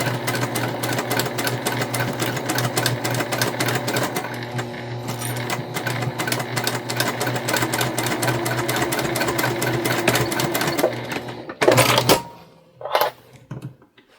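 A sewing machine stitches across the corners of a quilted fabric basket with a quarter-inch seam, running in a fast, steady mechanical patter for about eleven seconds before stopping, followed by a couple of short handling clunks.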